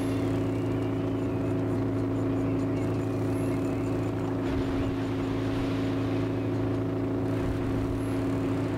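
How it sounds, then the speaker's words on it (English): A boat engine in the Esail sailing simulator game drones as a steady, loud low hum with a constant tonal whine, running throughout without a break, with no talk over it. "there's no option to turn the engine noise down and the voice up"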